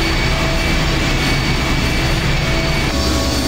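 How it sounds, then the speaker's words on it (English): A heavy engine starting up in the point-and-click video game I Have No Mouth and I Must Scream: a loud, sustained broadband roar with a steady low rumble throughout, with no talk. "The engine's starting up again."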